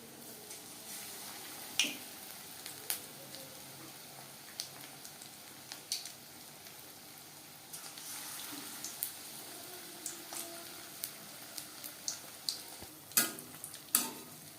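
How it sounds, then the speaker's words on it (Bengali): Paneer pieces frying in hot oil over a medium flame give a quiet, steady sizzle broken by scattered sharp pops and crackles, with no voices. "তেল গরম করে নেওয়ার পর পনির ভাজবো মিডিয়াম ফ্লেমে"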